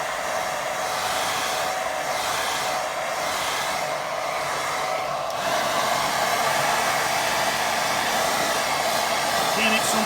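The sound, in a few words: hair dryer drying watercolour painting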